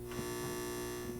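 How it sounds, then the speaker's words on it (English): A Fender DeVille guitar amplifier with the master turned up hums loudly and steadily near its audio transformer, a constant buzzing drone with no talking. "You can hear how bad that's humming."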